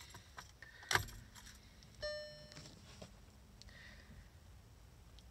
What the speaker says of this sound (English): using the key, we start the ignition